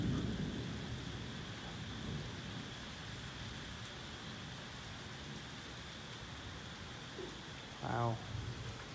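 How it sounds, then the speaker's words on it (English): Outdoors in a thunderstorm, a dense, steady hiss of heavy rain pours throughout, with a low rumble of thunder beneath and a brief sharp sound near the end. "it's heavily raining."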